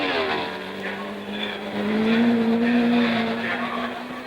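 Lotus 25 race car at the Rouen French Grand Prix, a steady high engine whine rising in pitch as it passes, loud and close, with no speech.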